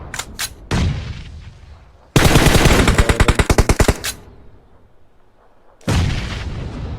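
Bursts of automatic gunfire in PUBG Mobile during a pro league tournament match: a loud rapid string of shots in the middle, with shorter loud volleys at the start and end and quieter gaps between, no talking.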